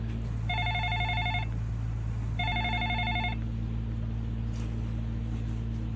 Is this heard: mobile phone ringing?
yes